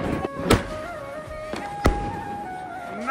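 Diwali firecrackers burst from a rooftop in a city, two sharp loud bangs a little over a second apart over a background of distant crackling and whistling tones.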